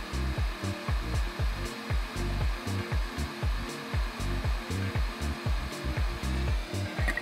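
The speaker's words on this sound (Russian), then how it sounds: "Если температура высокая в момент установки на держатель, то вентилятор продолжает работать, тем самым охлаждая нагреватель" A cheap 8858 hot air soldering station blows steadily while it cools its heater, its fan whirring in a continuous rush with rhythmic low pulsing throughout, close and fairly loud, with no talk.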